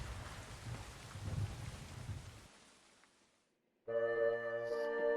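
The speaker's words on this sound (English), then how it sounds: "Wait till the rain stops." Steady rain with a low thunder rumble in the video game Return of Red Riding Hood Enhanced Edition, loud for a couple of seconds and then fading away before game music begins.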